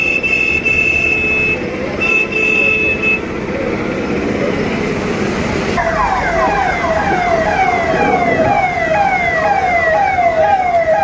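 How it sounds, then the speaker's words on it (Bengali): An ambulance siren wails loudly in a traffic jam caused by a stuck bus on a Kolkata street, first steady then switching to a fast rising yelp, over engine and road noise, with faint voices around. "অ্যাম্বুলেন্সটা সব জ্যামের ভিতরে পড়ে গেছে বাসটার জন্য।"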